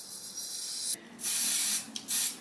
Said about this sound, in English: just gonna take my little my water bottle and just spray the hair